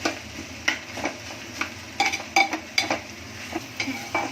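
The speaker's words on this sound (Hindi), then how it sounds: "इसको मैंने एकदम बारीक गैस पर सिर्फ पकाई एक तरीके से, क्योंकि प्याज का कच्चापन जाए।" Onions softening in a pan over very low gas for white chicken biryani, with a faint continuous sizzle and a series of light spoon taps and stirring scrapes close by.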